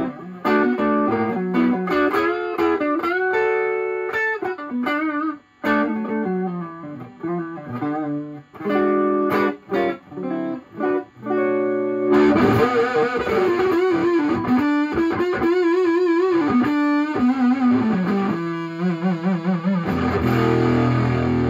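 An electric guitar played through a vintage Fuzz Face fuzz pedal rebuilt with replaced parts: loud, thick, distorted chords and riffs, heavily saturated and continuous, with brief pauses between phrases and no voices.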